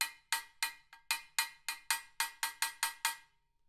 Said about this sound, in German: sehr kurzes Sustain mit den Obertönen von der Bell und dem Splash